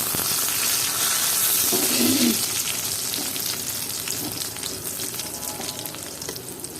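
Bay leaf, garam masala and cardamom hit hot oil in a pan, giving a loud, close, continuous sizzle and crackle with a brief stirring scrape, the frying gradually settling slightly.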